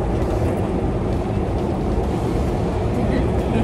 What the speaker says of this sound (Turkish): Yani metro yerin altında.